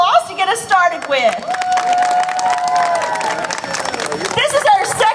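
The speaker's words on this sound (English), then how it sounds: "Let's give all of our students and all of our patrons that are here a little round of applause to get us started with." Audience at a high school speech and poetry contest gives a sustained round of applause with some cheering, a steady crowd wash that fades as it ends, with voices over it.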